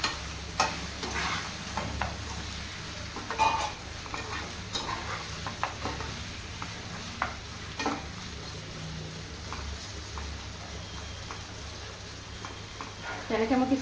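Goat meat frying in a pan for mutton curry: continuous sizzling with scraping stirs and occasional clinks of a utensil against the pan, close and moderate in level throughout.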